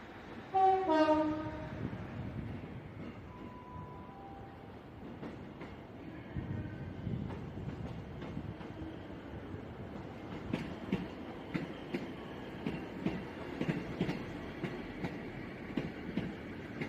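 A train departs Exeter St Davids for Okehampton, opening with a loud horn blast, then a rumble and rhythmic clicking wheels that build steadily as it pulls away, with no talk.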